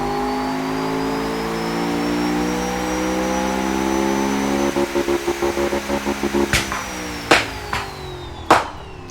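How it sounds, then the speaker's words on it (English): A powerful turbocharged dual engine runs with a steady drone that builds into choppy pulsing, then gives several sharp revs and pops near the end, loud and close. "This is the first time I've ever seen an engine this powerful run."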